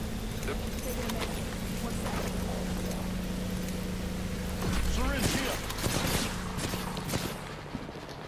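Gunfire rattles during an Apex Legends match as a fast, loud burst of shots in the middle. Quieter game noise surrounds it, and a voice can be heard briefly.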